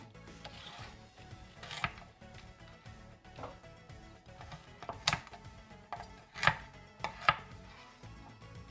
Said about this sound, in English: give them a very thin slice into little matchsticks like you would find inside of a spring roll